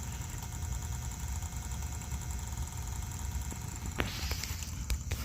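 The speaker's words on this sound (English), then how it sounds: "That is the sound of this contactor humming." A Heil air conditioner's contactor hums steadily with a constant electrical buzz and mechanical drone, with a few faint clicks near the end and no talking.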